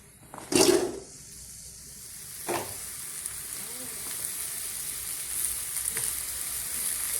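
Okra fries in a kadai on the stove with a loud splash and hiss as it goes in, then a few clatters of stirring over a steady frying sizzle that continues to the end.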